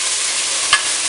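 White wine poured over toasting risotto rice, a loud, steady hiss of sizzling with a brief sharp spatter or clink near the end of the second.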